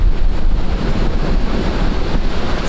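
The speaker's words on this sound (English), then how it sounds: "the wind is so strong that there's not really nothing you can do" Strong wind roars over ocean waves breaking at sunset, a dense, steady rush of surf and gusts buffeting the microphone, loud and continuous with no talk.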